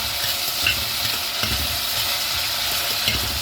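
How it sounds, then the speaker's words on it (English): Chopped onions sizzle loudly in hot oil on a stove for chakalaka while a spoon stirs them, a dense, close frying hiss with occasional scraping clinks and no voices. "I've got hot oil on my stove. I'm going to add my onions. I'm going to mix it in."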